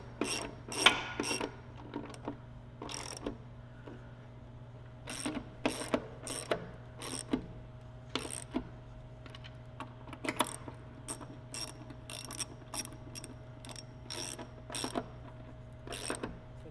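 Ratchet wrench tightening bolts on a TV mount hung on a post: short bursts of rapid, crisp clicks repeating in irregular spurts, close and fairly loud, with quiet gaps between.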